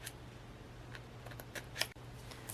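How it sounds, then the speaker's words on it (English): Scissors snipping through paper while trimming craft petals, a few short, crisp cuts spread across a quiet moment, close and fairly soft. "I'm just going to trim this out with my scissors real quick."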